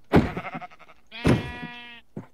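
Sheep in a video game let out two loud, close bleats, the second long and wavering, followed by a short clipped cry.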